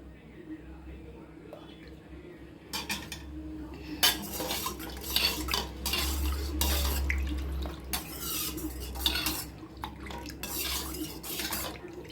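A spoon clinks and scrapes against the inside of a cup while mixing a rose- and lotus-petal juice drink into cooled milk, with steady rhythmic stirring over a low background hum.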